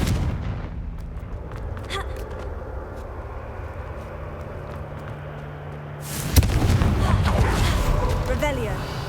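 A Confringo fire spell bursts in Hogwarts Legacy with a sharp, loud blast, and a rumbling roar carries on behind it. Game sounds continue in the background before the blast.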